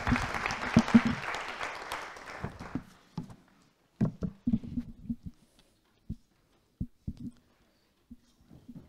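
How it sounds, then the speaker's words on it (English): Audience applause rises briefly at a mental health event, then thins out quickly into scattered, isolated claps with quiet gaps between them. "Let's have a round of applause, please."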